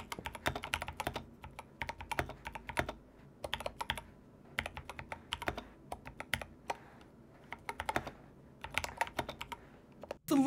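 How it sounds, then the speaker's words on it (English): Muffled, softened keystrokes patter in quick bursts with short pauses, a foam-dampened mechanical keyboard in a machined aluminum case typed on steadily and close by, no talking. "I added foam between the PCB and plate and under the PCB to dampen the sound"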